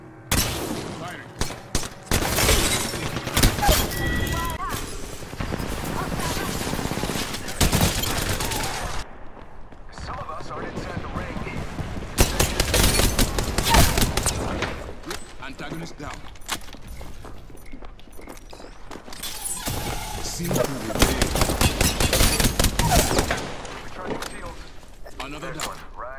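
Rapid gunfire in the battle royale game Apex Legends: repeated bursts of automatic shots crackle close and loud in several volleys across the stretch, with a player talking intermittently over them.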